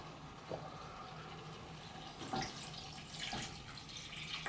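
Spring water is poured from a container into a goulash pot in a home kitchen, a soft, low-level running and splashing trickle with a few brighter splashes, heard alone without talk.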